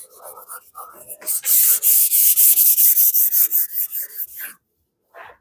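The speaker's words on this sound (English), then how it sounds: "I might even have to go to a little bit of a rougher sandpaper as well" Sandpaper rubbing back and forth over pitted, rusty metal on a motorcycle gas tank or side cover, a loud rapid series of rasping strokes lasting several seconds, then a brief pause and one last faint stroke.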